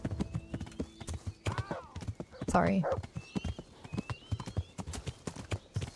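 Horse hooves clip-clop at a steady gallop in the video game Kingdom Come Deliverance, a close rhythmic patter running throughout, with a brief whinny midway and a voice talking over it.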